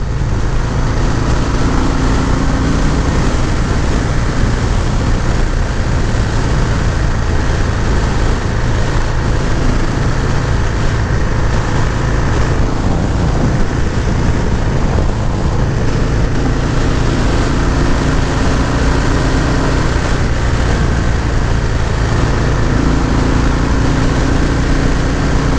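A 2019 Harley-Davidson FXDR 114 power cruiser engine drones steadily while riding, a continuous loud low rumble mixed with wind noise throughout, with no talking.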